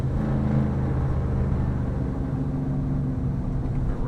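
A 1964 Chevy's engine rumbles steadily in second gear while cruising downhill, a loud, deep, continuous drone heard from inside the car.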